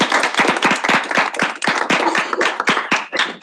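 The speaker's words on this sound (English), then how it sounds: "Please give him a big round of applause." A small audience claps for an open forum speaker at a student senate meeting, close, uneven individual hand claps in a brisk irregular patter that continues without break and without voices.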